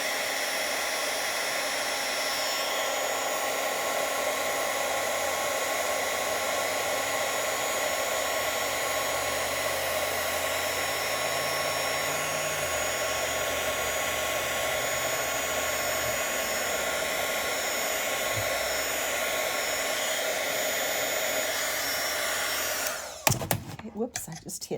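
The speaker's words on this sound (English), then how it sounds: "And then get our heat gun, and I apologize for the noise, but it has to be." A heat gun runs steadily at close range, a loud continuous broadband blowing hiss with a faint hum beneath, holding level for about twenty-three seconds before a brief clatter and cutoff at the end.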